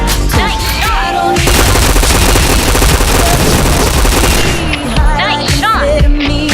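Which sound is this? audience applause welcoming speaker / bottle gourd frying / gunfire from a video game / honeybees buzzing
gunfire from a video game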